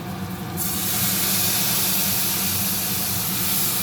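Coriander-powder spice paste loosened with a little water hits hot masala in a pan, bursting into a loud, steady hiss that holds without a break for several seconds.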